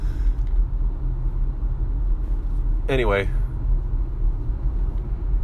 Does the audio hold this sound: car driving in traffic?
yes